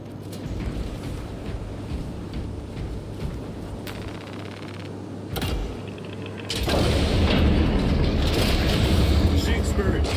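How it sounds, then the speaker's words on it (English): Frag grenade blasts in Space Marine 2, a Warhammer 40,000 shooter, set against machine cultists: booming detonations about 5.3 and 6.6 seconds in, the second opening onto a loud, sustained roar of battle noise over a steady game hum. "Ooh, frag grenades."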